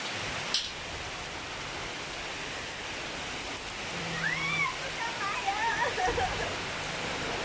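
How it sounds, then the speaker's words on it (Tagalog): Heavy rain pours down in Cagayan de Oro, a dense, even hiss of falling water that stays steady throughout, with a few faint high chirps or squeaks in the second half. "Teng ulan"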